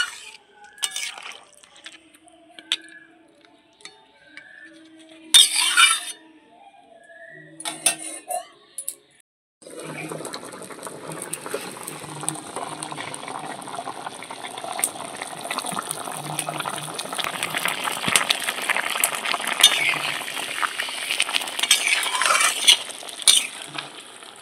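Fish curry made with aar fish bubbles and is stirred in a pot, a steady dense simmering hiss with scraping and clinking of a spoon against the pot, louder and continuous after sporadic utensil knocks at the start.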